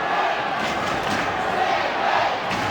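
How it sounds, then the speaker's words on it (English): Crowd at a 1996 Australian football match between the Swans and West Coast Eagles, a broad, continuous roar of chanting voices filling the stadium at steady volume. "And the crowd is still chanting."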